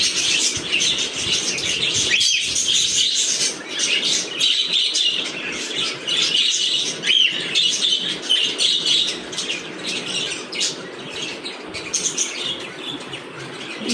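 Two birds on a balcony calling again and again with bright chirps and tweets, close and fairly loud, with a few wing flutters mixed in.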